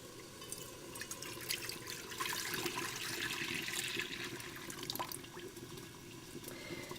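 Milk poured into a pan at home for making yogurt, a steady liquid splashing and trickling stream running for several seconds, moderately close with no talk over it.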